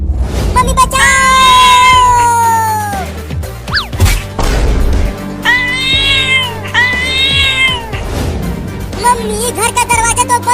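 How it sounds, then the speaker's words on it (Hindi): A cat lets out several long, loud, drawn-out meows close by, with thumps and scuffling between them. "तो एक खतरनाक बिल्ली घर में कैसे आ गई?"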